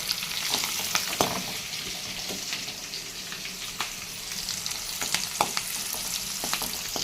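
Onions with green and red chillies sizzle and crackle steadily in hot oil while being fried until brownish for a broad bean and garlic curry, with occasional stirring scrapes and clinks over a continuous hiss.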